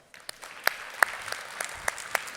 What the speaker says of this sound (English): let's give a warm hand of applause to Liam Maxwell.